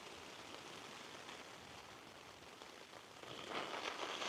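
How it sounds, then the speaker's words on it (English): Rain pattering on a Hilleberg Nallo 2 tent during a wet, windy wild camp in the Lake District, a soft steady hiss of drops that swells slightly louder near the end, heard alone without voices. "Don't you just love the rain?"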